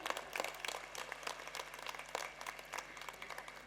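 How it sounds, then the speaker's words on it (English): Audience applause at a school annual function, fairly faint and continuous, with scattered individual claps over a steady patter for a few seconds. "Let us keep the applause going for a while."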